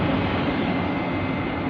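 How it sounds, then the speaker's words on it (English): Traction cooling fans on an electric train at Clapham Junction roar in a loud, steady broadband whoosh close by, no talking. "Those fans seem a bit loud"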